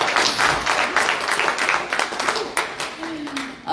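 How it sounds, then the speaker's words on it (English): A conference audience in Canada bursts into a round of applause, dense clapping filling the room for several seconds before it thins out, with a voice briefly heard near the end. "Now, if you're feeling fantabulous, I want you to give me a round of applause."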